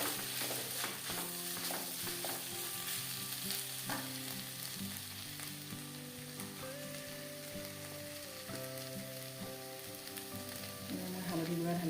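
Goat tripe frying in a pan gives off a steady sizzle, and a spoon stirs through it with scraping strokes. Music plays underneath throughout.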